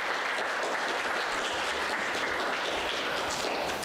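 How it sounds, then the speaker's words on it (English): A community gathering's audience applauds itself at a party, a dense, steady wash of many hands clapping, fairly loud and unbroken throughout with no talk over it. "give yourselves a big round of applause"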